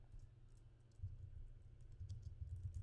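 Someone types on a computer keyboard while entering a file name on a Mac, a soft, fast patter of key clicks that stays close and quiet, with no talking over it.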